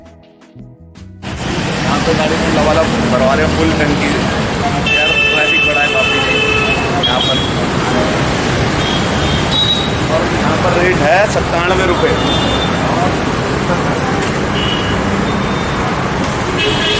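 Heavy traffic jam on a Dehradun city road, horns tooting repeatedly over a steady dense roar of cars, buses and trucks, close and loud throughout after a quiet opening second, with voices mixed in.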